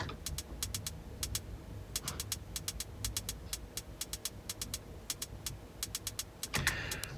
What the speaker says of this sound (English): So originally the closed hi-hat sounded like this.